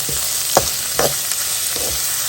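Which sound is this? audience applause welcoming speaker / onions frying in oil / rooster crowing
onions frying in oil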